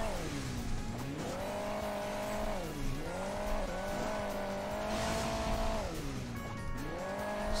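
A car engine in the Hill Climb Racing 2 video game on a snowy track, its pitch rising and dipping steadily as it revs across the terrain, with a constant loud drone throughout.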